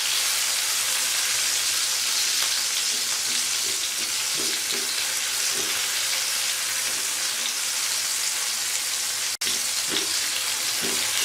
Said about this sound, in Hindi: अब हम टमाटर को इसमें थोड़ा सा पका लेंगे।